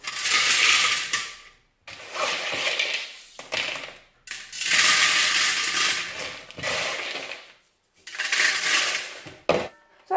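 Small white pebbles poured into a 3.5-gallon Topfin aquaponics aquarium, loud close rattling cascades in several separate bursts with short pauses between.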